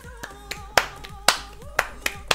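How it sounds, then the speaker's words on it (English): Hand claps land as a loose, sharp beat roughly every half second over a Eurovision song, with the violins, drums, bass and sung melody continuing beneath. "Okay, we clapping!"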